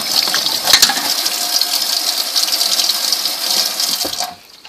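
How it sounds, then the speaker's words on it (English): Water from a tap runs steadily while a paintbrush is rinsed under it, a loud continuous splashing hiss with a few brief clinks, cutting off abruptly near the end. "And I'll rinse it out a little bit and then go back and put more soap on it"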